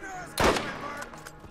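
A single loud gunshot blast rings out in Borderlands 2, followed by a few fainter pops fading quickly.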